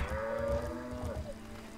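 A cow moos in the Lego Jurassic World video game, one long, low, wavering call lasting under two seconds, heard alone with no talk over it.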